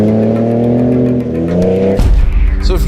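Twin-turbo V6 of a 2017 Ford Raptor pickup runs loud and close, a steady harmonic drone that rises in pitch, then a sudden lower, rougher burst of throttle near the end, with no talk over it.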